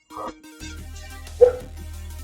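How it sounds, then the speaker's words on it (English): Pet dogs barking indoors, heard as a few distant yips and one sharper bark over a steady low hum, faint and somewhat muffled. "Oh, my dogs are barking a lot."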